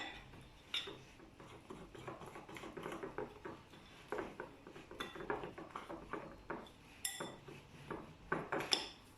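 Crepe batter ingredients stirred together in a bowl, heard as quiet, irregular scraping and tapping of a utensil against the bowl, with soft clinks repeating in uneven bursts and no voices.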